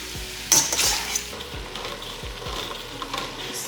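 Onions frying in a pot for homemade chili, a steady close sizzle with a louder burst of spitting early on and faint clinks of a utensil stirring, no talking.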